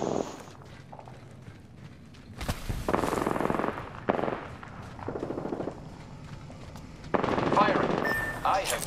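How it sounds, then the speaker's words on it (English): Bursts of rapid automatic gunfire in a shooter video game, several loud close volleys separated by short pauses, under tense team voice chat. "I am taking fire."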